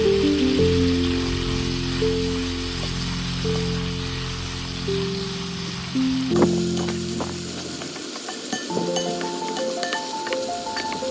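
Beef pieces frying in oil in a pan at home, a steady loud sizzle and crackle that shifts partway through as the pan is stirred, with light scraping and clinks and no talking.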